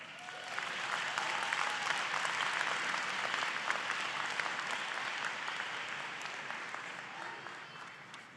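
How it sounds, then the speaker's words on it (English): Audience at a spring university convocation applauding graduates, a steady, dense wash of many hands clapping that holds for several seconds and eases off slightly toward the end. "Please join me in a round of applause for our graduates."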